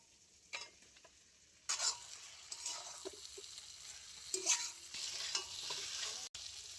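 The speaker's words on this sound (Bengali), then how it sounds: "এবারে আমি ভেজে রাখা আলু পটল দিয়ে খুব ভালো করে আর একবার কষিয়ে নেবো" Fried potato and pointed gourd stirred into cooked masala in oil, a quiet sizzle that grows louder partway through, with intermittent scraping and clinks of a spatula against the pan.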